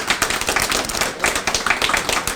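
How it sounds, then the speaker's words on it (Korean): An audience applauds a policy agreement signing at a subway disaster memorial space in Daegu, with a continuous patter of many hands clapping at moderate distance. "박수로 협약에 대한 축하를 부탁드리겠습니다"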